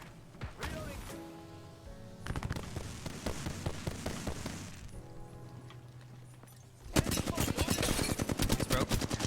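Gunfire in the video game Apex Legends crackles in rapid automatic bursts and scattered single shots, with quieter stretches in between and a dense, loud volley at the end.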